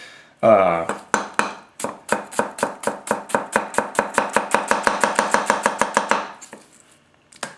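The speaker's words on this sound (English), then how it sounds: "I'm basically picking this knife up and just kind of plopping it down and just kind of guiding it" A 240 mm Tetsuhiro hand-hammered White #1 steel gyuto chops an onion on a cutting board, about thirty crisp rhythmic knocks that speed up slightly, loud and close, with a voice briefly heard.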